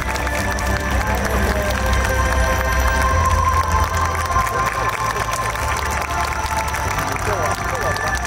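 Large outdoor crowd applauding at the Koiya Festival 2022 awards ceremony finale, a dense steady wash of clapping with some cheering, mixed with background music and a voice over it throughout.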